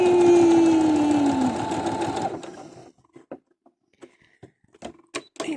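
A new sewing machine runs steadily for about two and a half seconds stitching decorative stitches, a fast mechanical whir that stops, followed by scattered small clicks and handling noises.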